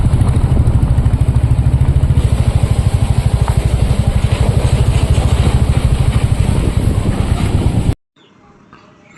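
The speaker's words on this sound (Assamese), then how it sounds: "আৰু এইটো বাইক আমাৰ আগে আহি আছে" A motorcycle engine thuds steadily on a hilly mountain road, its fast, even pulsing close and loud, then cutting off abruptly near the end.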